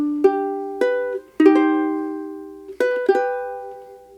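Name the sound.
ukulele playing opening measures of Waltz of the Flowers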